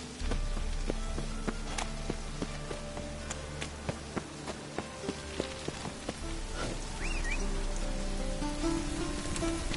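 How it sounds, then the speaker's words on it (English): Rain falls in a video game, a steady hiss of drops on surfaces with scattered ticks and taps, soft and continuous with no voices. "Looks like rain."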